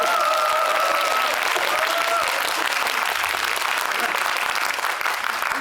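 Steady, dense applause from a full audience at a Megabox COEX theater 9 screening of The Roundup (Crime City 2) with a guest talk, loud and continuous throughout, a few faint voices under it.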